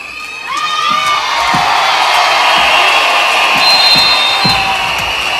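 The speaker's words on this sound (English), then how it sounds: "We clap hands very well for YAHOSHUAH, and we cry loudly for YAHOSHUAH." A large crowd at a religious festival for Yahoshua in Ambohidrapeto, Antananarivo, Madagascar, cheering and shouting loudly and continuously, with whoops, children's voices and scattered claps rising over a dense roar.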